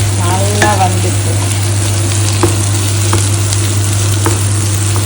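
Prawns sizzle loudly in a hot pan of oil while being stirred, with a few scraping knocks from the utensil over a constant steady fry.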